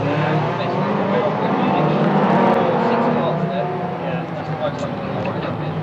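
Racing cars lap the track at the Rolling Thunder Expo, a continuous loud engine roar from passing cars that swells and fades slightly, with a commentator talking over it throughout.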